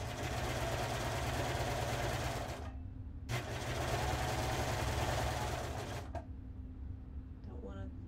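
A serger sewing machine runs at a steady, loud buzzing whir, stops briefly, starts again for a few seconds and then stops. A voice speaks under the machine noise.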